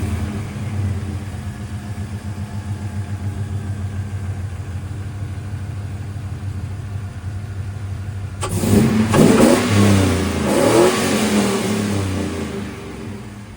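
A GMC Silverado truck with long tube headers idles with a low, lumpy rumble, then its engine revs up louder and rougher before settling back, with no talking.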